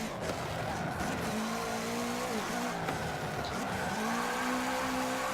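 A 2016 Subaru WRX rally car in the Forza Motorsport 7 racing game makes a handbrake turn, its engine droning steadily with shifting pitch and a brief tire skid, loud and continuous with no talk.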